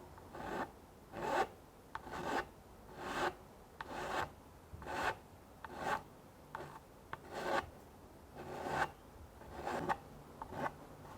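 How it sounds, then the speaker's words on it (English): A metal file rasps back and forth in steady, rhythmic strokes, about a dozen passes, filing a repair flush on a Moto Guzzi Le Mans 1000 alternator cover, close up and fairly quiet with no talking. "I'm just going to file it back flush"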